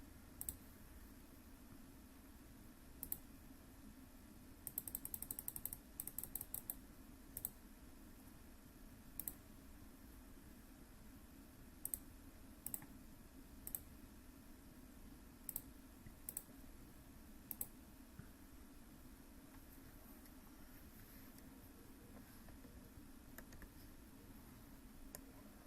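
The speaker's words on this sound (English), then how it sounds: "We'll type that into our calculator." Soft, quiet clicks of keys being pressed on a calculator keypad, arriving in irregular short bursts and single taps over a faint room hum, with no talking.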